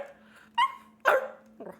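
A Dalmatian indoors gives three separate barks, the last one shorter, close by, with quiet pauses between them.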